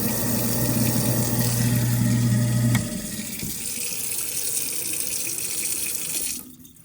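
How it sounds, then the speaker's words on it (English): Water gushes steadily from a kitchen tap into a sink fitted with a garbage disposal, loud and close, with a lower rumbling layer for the first few seconds before the flow continues alone and then cuts off. "So just turn the water on, turn the switch on."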